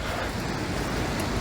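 Ocean surf washing steadily along a jetty by a long stretch of sand and rock formations, a broad continuous roar with no distinct breaks.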